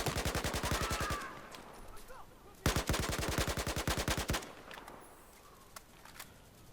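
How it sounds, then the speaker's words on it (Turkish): Two long bursts of rapid automatic gunfire in a Battlefield 4 firefight, each a dense run of sharp evenly spaced shots, loud and close, with a few scattered distant shots between and after them. "Çatışma var burada."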